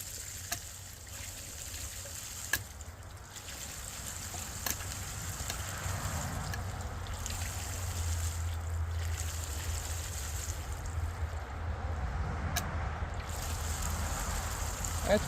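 A well pump flushes sediment-laden water through a home system, giving a steady, low rushing flow with faint trickling and a few sharp clicks, fairly quiet and continuous.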